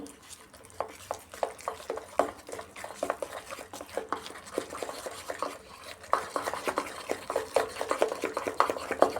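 A spoon mixes a thick ground lentil dumpling batter in a bowl, giving a run of soft repeated scraping taps and dull knocks, close and moderately loud, with light kitchen clatter and no talk.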